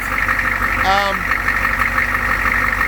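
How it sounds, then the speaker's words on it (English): A truck engine idles steadily through a newly fitted exhaust, a close, even low rumble with a brief voice heard over it. "Yeah, so there's the new exhaust."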